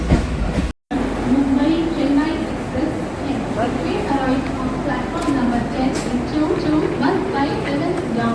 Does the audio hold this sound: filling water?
no